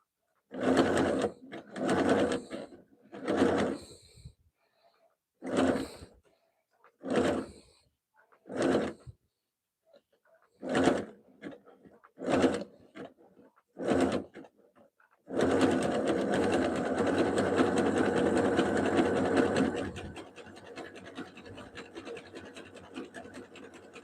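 A sewing machine stitching a jelly roll fabric rug runs in short, close bursts with pauses between, then hums through one long continuous run before slowing to a quieter whir.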